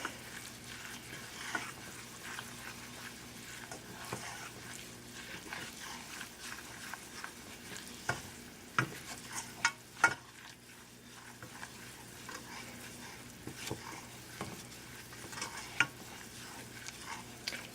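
Flour is stirred in a hot pan for enchilada sauce, giving a soft, steady sizzle broken by repeated scraping and tapping of the utensil against the pan, close and moderately quiet.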